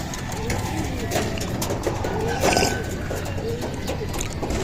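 Racing pigeons coo softly inside a loft, low repeated calls against a busy background with a voice talking over them.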